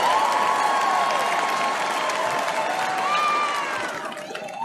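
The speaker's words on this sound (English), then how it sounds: "And they're cheering him" A convention-hall crowd at the RNC cheering and applauding a Teamsters union leader, a steady roar of clapping and shouts that fades slightly toward the end, with a voice mixed in.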